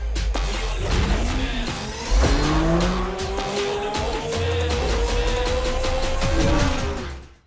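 A racing car in the Forza Street video game revs hard while its tyres squeal through long skids, with loud engine drone and rising pitch sweeps that carry on steadily before tailing off at the end.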